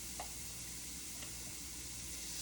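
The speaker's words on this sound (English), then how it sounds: "So you're supposed to cook the leeks and garlic" Leeks and garlic cooking in butter in a pan give a soft, even sizzle with a few faint clicks, steady and quiet throughout, with no voices.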